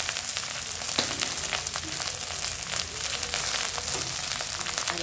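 Hot cooked rice dropped into a pan over low heat, giving a steady, moderate sizzle with scattered crackles and scraping stirs, no voices.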